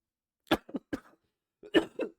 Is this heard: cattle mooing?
no